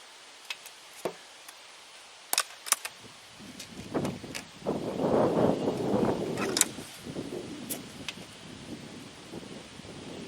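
A Crosman Phoenix air rifle fires outdoors, giving a few sharp isolated cracks spread across the clip, with gusty wind rumbling over the microphone in the middle.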